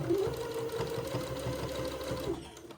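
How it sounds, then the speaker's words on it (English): A sewing machine runs steadily, stitching a smocked day gown right beside the smocking, its close, even mechanical whir and rapid needle rhythm continuing without a break. "I'm going to sew immediately to the right of the smocking"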